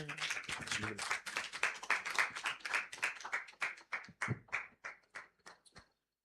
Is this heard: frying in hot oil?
no